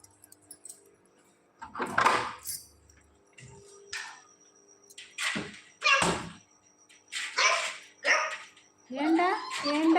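Dogs bark and whimper excitedly as a door opens, with someone speaking to them in Tamil between short bursts of barking in a home around feeding time.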